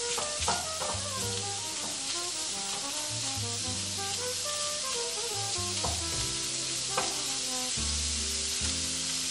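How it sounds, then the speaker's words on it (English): Shrimp seasoned with Old Bay browning in a pan for collard green gumbo, giving a dense continuous sizzle and hiss with a few soft clinks, close and even throughout, and no one talking. "I just seasoned them with a little bit of Old Bay. Nothing special. And I'm just gonna get these browned."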